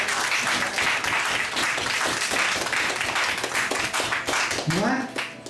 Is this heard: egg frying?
no